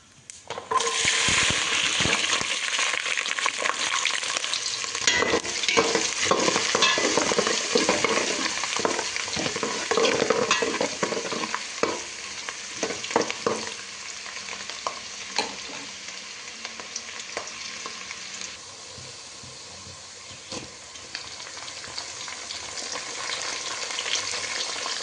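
Garlic, ginger and green chillies fry in a pan with a continuous crackling sizzle, frequent sharp spatula scrapes and clacks early on, then a quieter, steadier hiss; no one speaks.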